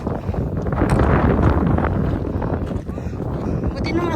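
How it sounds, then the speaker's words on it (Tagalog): Strong wind buffets the microphone on a mountain hiking trail near She Leng and Lok Ma Chau in Hong Kong, a steady loud rumbling roar that runs continuously throughout with no clear voices. "Buti na mahangin, no?"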